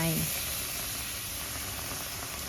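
Water running into a pot on a lit stove for Thai minced pork larb, a steady close hissing rush that continues after a brief voice at the start.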